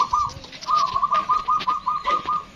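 Zebra dove (perkutut) kept in an outdoor aviary calling from overhead, a run of repeated clear, even-pitched cooing notes in a steady rhythm, fairly close with faint background ambience.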